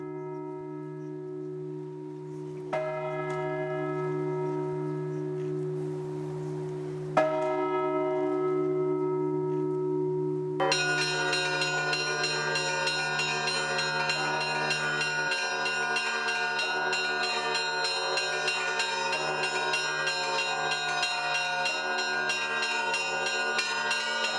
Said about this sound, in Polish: Tomek i Grześ grają na dzwonach od trzech lat